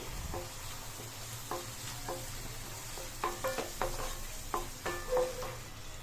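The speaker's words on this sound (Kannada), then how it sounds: "ಇದನ್ನ ನಾವು ಚೆನ್ನಾಗಿ ಟೊಮೆಟೊ ಸಾಫ್ಟ್ ಆಗಿ ಎಣ್ಣೆ ಬಿಟ್ಕೋಬೇಕು, ಅಲ್ಲಿವರೆಗೂ ಫ್ರೈ ಮಾಡ್ಕೊಳ್ಳಿ." Chopped tomato frying in oil for an egg stir-fry, a steady low sizzle with several clinks and scrapes of a spoon stirring against the pan, close by, with no voices.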